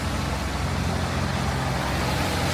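A big truck sits across a crosswalk in busy Manhattan street traffic, a dense, steady roar of engines and road noise heard up close without pause.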